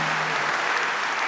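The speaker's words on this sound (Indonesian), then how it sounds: "Pertama-tama tepuk tangan dulu buat para pengajar kita yang hebat." An audience applauds teachers at a church talk on Kingdom Theology, a dense, steady burst of clapping that fills the whole short moment.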